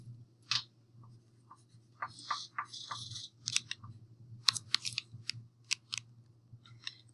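Pencil scratching across paper in short separate bursts of strokes, close and fairly quiet over a steady low hum, with small clicks between the strokes.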